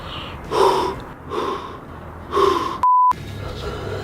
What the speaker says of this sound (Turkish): O yüzden biraz nefes alacağım burada.